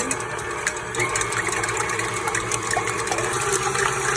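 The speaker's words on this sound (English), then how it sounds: "these are in my mixer, and I am going to turn them on" An electric kitchen mixer whipping egg whites for baking, a continuous close whirring buzz with fine rapid ticking, loud and steady without talk.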